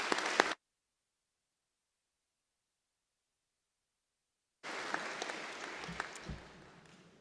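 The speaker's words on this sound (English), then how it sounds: "please join me in giving her a round of applause." Brief applause from a commencement audience at a graduate hooding ceremony, a short burst that cuts off abruptly, silence, then a longer stretch of steady clapping resuming.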